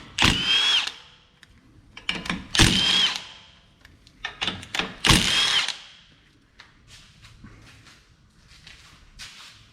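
A power tool, likely an impact driver or drill, spins off three 16 mm nuts from a car's lower ball joint on a VW/Audi. It gives three loud whirring bursts with ratcheting, then lighter tool handling and clicks follow.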